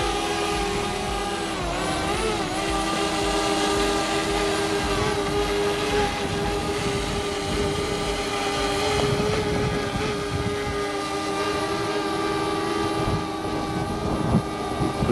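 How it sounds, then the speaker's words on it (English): A steady high mechanical whine of a small drone hums continuously for the whole stretch, close and constant, over a broad rushing background of strong wind outdoors. "So let's get this little drone in the air."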